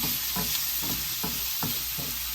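Curry leaves sizzle in hot oil for a pepper shrimp curry, a steady close crackle broken by regular stirring scrapes every half second.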